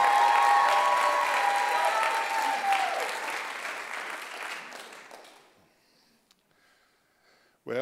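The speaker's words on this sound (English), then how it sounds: "Give Jesus a big hand clap" Church congregation at a revival service giving a big round of applause, loud dense clapping with some cheering tones that gradually thins and dies away into near silence, followed by a brief sharp noise at the very end.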